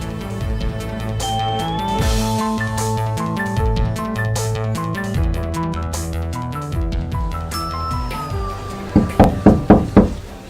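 Knocking on a door in a drama scene: a quick series of about five sharp raps near the end, sounding over steady background music.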